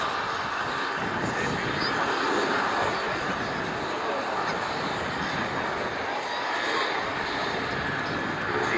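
An Avro Vulcan XH558 turbojet bomber flying at an air display at Dunsfold, its old smoky turbojets giving a loud, steady, broadband roar that holds without a break.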